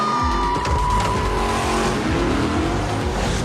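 Cars launch hard from a start line at a street-racing car event in Furious 7, engines roaring loud and steady with tires squealing throughout, ending abruptly.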